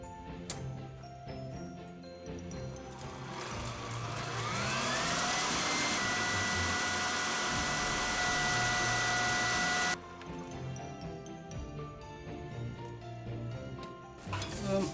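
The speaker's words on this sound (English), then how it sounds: "I'm going to whisk it on high speed until it forms just between stiff to" Stand mixer whisking three egg whites on high speed for a sponge cake, a loud steady whirring hum with rising pitch that runs for several seconds, then cuts off, with talking in the surrounding moments.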